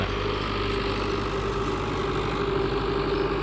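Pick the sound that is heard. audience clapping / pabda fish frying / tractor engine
tractor engine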